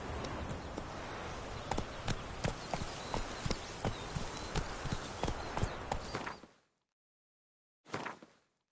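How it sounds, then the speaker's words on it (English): A horse's hooves clip-clop in a steady walking rhythm in the video game The Witcher 3, close and clear, then stop abruptly before a short burst of sound returns. "Whoa there, Roach."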